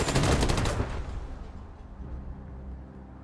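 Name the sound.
SMG gunfire in video game Wasteland 3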